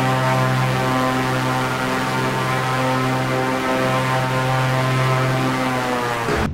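Aircraft engine in Flight Simulator 2024 drones steadily and loudly, a constant propeller-like hum with a strong tonal whine, unbroken and close for the whole stretch.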